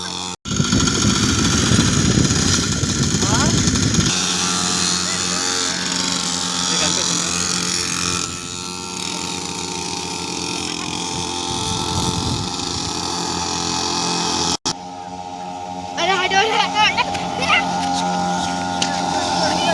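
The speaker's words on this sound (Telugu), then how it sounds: "ఈ డట్ బైక్స్ పెట్రోల్తో వస్తుంది" Petrol-powered kids' dirt bikes buzz around an open ground, a continuous revving engine drone that rises and shifts as they ride, with someone talking over it.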